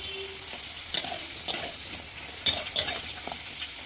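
Potatoes fry crisply in a pan with a steady soft sizzle, and a utensil scrapes and stirs them several times, close and fairly quiet, with no talking.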